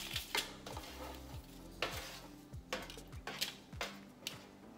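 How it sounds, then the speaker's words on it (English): Pasta, broccoli and pesto being stirred together in a pot, giving soft repeated scraping and sloshing strokes with light utensil clinks against the pot, steady and close with no talking. "So we'll just stir all this together."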